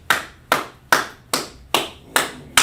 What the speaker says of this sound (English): So let's clap it up, everybody.